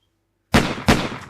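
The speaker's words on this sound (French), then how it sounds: "Vous entendez des coups de feu." Two sharp gunshot sound effects crack in quick succession after silence, loud and close, played during a French tabletop role-playing game session.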